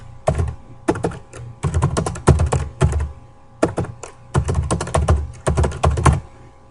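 Someone types a title on a computer keyboard in a design program, loud, close clusters of rapid key clacks in bursts separated by short pauses, with no voices.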